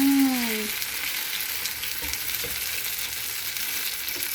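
Eggplant for tortang talong, the Filipino eggplant omelette, fries in a pan with a continuous close sizzle and crackle; a brief sung voice fades at the start.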